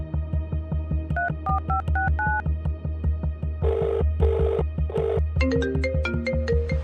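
A phone call being placed: a rapid series of dialing tones followed by a repeating ringtone melody, close and clear with no talk.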